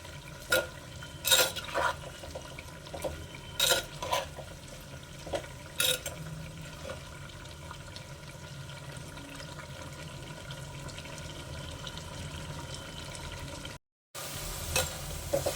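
Bitter gourd pieces fry in a pan with a quiet, steady sizzle, broken by scattered scrapes and knocks as they are stirred and a short silence near the end.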